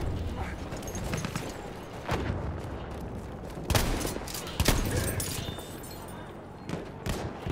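Shotgun gunfire in Battlefield 1 multiplayer, several heavy blasts going off at irregular intervals over a constant backdrop of distant battlefield shooting and clatter.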